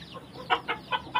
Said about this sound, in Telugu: ఇదొక కోడి, దీనానికి ఒక 10 ఉన్నాయి